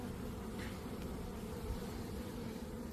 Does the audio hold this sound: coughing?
no